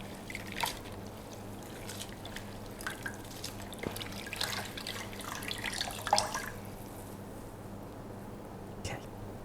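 A netted dishcloth rinsed under running tap water, a soft steady trickle with drips and wet squelches, faint and close, with a voice speaking quietly at moments.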